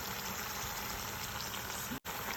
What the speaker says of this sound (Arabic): اللحمه عم تتقلى